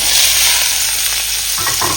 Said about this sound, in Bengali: এবার আমি এটাকে ভাজা করব।